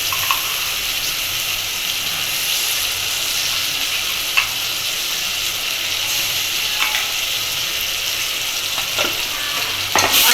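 Ginger garlic paste being stirred into fried onions makes a loud, steady sizzle, with occasional scrapes and taps of the spoon against the pan throughout.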